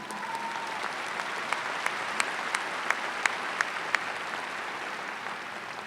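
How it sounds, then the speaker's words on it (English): Commencement audience applause at Northeastern University, a wide, even wash of clapping from a large distant crowd, with a few crisp nearer claps popping out above it. "You want to give her a round of applause?"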